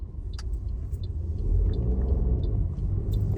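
A Toyota Yaris on a road test, its engine and tyres making a steady low rumble with muffled road noise, close and continuous, no talking.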